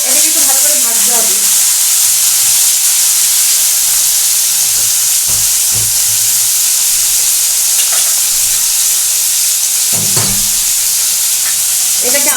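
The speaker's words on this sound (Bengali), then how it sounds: "এইটাকে আমি এখন একটু ভেজে নেব। এটাকে একটু ভালো করে ভাজতে হবে।" Prawns coated in salt and turmeric fry in hot oil with a loud, steady sizzle and hiss throughout, broken by a few scraping stirs of the pan.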